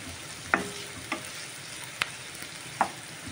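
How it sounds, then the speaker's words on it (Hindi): Onions stirred and fried in a pan until golden brown: a low, steady sizzle broken by a few sharp, widely spaced clicks of a spoon against the pan. "कांदो पियाव घालपाचो आनी गोल्डन ब्रावन करपाचो सारको जावपाचो स्टर करपाचो"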